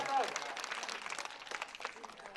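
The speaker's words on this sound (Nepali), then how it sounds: "उहाँहरू सबैप्रति जोरदार ताली दिएर सम्मान गरौँ" Audience applause breaks out at a girls' group annual festival at Laxmi basic school in Devdaha, a dense, steady wash of clapping that stays fairly even throughout and fills the hall without pause.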